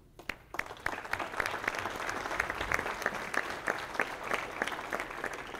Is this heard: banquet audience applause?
yes